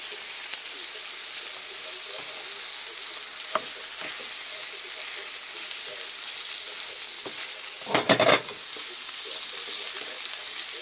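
Tender eggplant stir-fried with oyster sauce hisses in a pan under a steady, moderate sizzle, with scattered scraping stirs and a brief louder clatter of utensil against pan near the end.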